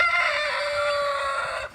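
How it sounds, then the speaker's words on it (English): A rooster crows once in a single long, loud, close call that holds steady for nearly two seconds and fades at the end, with no talking. "but he turned out to be a rooster"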